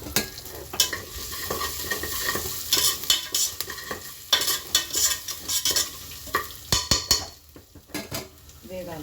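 Urad dal fries in oil while a spoon stirs and scrapes the pan, with a sizzling bed under frequent sharp metallic clinks and scrapes in irregular bursts, close and fairly loud.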